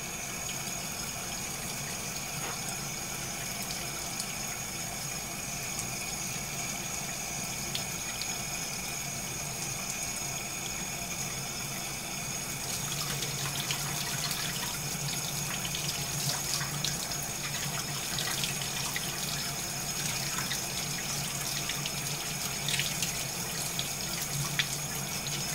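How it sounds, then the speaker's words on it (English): Cold water runs from a tap in a steady hiss into a sink, continuous throughout and growing slightly fuller and splashier midway, with no talk. "With the cold water running,"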